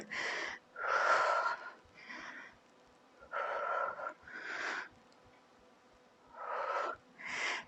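Heavy, forceful breaths pushed out during a home toning workout done without equipment, coming in loud close bursts of one or two exhales separated by short quiet gaps, with no talk.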